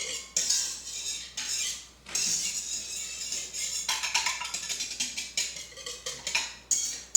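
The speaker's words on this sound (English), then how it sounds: "so I'm gonna whisk this around so it's all incorporated" Rapid, light clinking and scraping of a whisk stirring a mixture in a bowl for homemade cinnamon roll dough, an uneven run of close, quick metallic taps.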